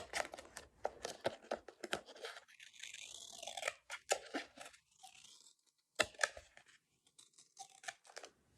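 Scissors snip through the end of a large 4-inch tape roll, giving a few quiet, crisp crunching cuts and tearing rustles in irregular bursts, with no voice over them.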